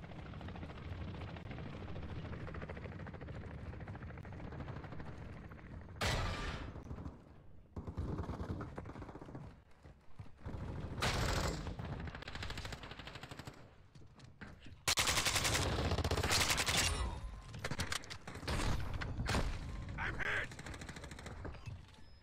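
Gunfire on the Black Gold map in a Call of Duty team deathmatch, with bursts of automatic fire and single shots coming in clusters over a continuous engine-like drone, mostly at mid distance.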